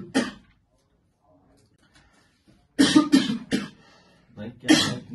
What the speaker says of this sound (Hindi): इतने दिनों से खांस रहा है भाई, मैं देख रहा हूँ।